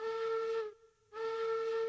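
A steam locomotive whistle in the train game Railroads Online gives two long steady blasts with a short gap between them, clear and alone.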